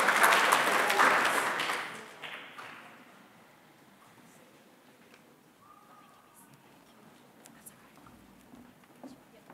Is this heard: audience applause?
yes